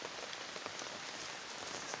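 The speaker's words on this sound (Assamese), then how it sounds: "একদম বৰষুণ চাওকচোন নেৰা নেপেৰা বৰষুণ ৰাতিপুৱাৰ পৰা বৰষুণ" Steady rain that has been falling since morning, a dense continuous hiss of drops on surfaces, even and unbroken, with no voices.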